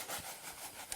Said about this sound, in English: We will start by using disinfectant solution to wipe down our bench